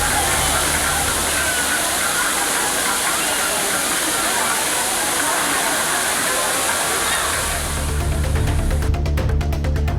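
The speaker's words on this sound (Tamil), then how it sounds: "அருவியிலும் தண்ணீர் மிதமாக கொட்டி வருகிறது" Water pouring moderately down a waterfall, a dense steady rushing roar that fills the whole stretch, loud and close, with a brief change in texture near the end.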